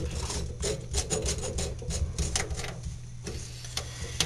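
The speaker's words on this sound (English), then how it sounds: "I'm going to push it in first, and I'm just going to hand tighten it" A plastic slip nut is hand-tightened on a sink drain J-bend, giving close, rhythmic scraping and rasping of plastic threads in repeated short turns.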